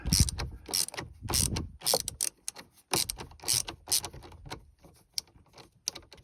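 Ratcheting clicks and metallic mechanism noise from working loose a Loctite-secured fastener on the shifter of a 2013 Tahoe police pursuit vehicle, sounding as close, loud, rapid bursts separated by short gaps.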